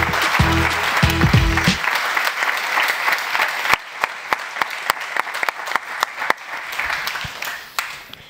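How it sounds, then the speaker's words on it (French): A studio audience gives a TV show's guests a round of applause, dense clapping with a few whoops at first, then thinning to scattered individual claps that taper off over several seconds. "des applaudissements pour Élodie Catala et Vincent Foucault"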